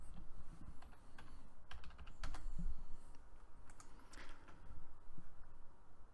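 A computer keyboard is being typed on to retype text in Smart Notebook software, giving quiet, irregular bursts of clicking keystrokes close by.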